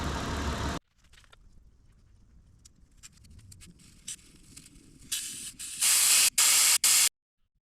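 Bursts of compressed air blast and hiss from a Gobege portable air compressor's hose line, with one loud spray at the start, fainter hissing and clicks, then three loud close bursts near the end.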